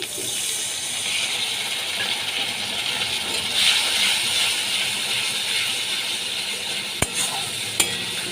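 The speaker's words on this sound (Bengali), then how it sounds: "এর মধ্যে অল্প করে জল দিয়ে দিচ্ছি" A little water goes into a sizzling fish curry with chili paste and cumin, giving a continuous bright hiss and crackle with some stirring. Two sharp knocks come near the end.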